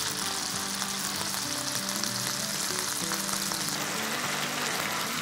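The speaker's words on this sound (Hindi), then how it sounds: "तेल में इसको फ्राई कर लेते हैं जहाँ जगह नज़र आ रही है। चिकन के पीस को थोड़ा सा साइड में कर लेते हैं और इसको भून लेते हैं।" Chicken pieces fry in hot oil with ginger and garlic, making a loud, steady, close sizzle that never lets up and has no voices over it.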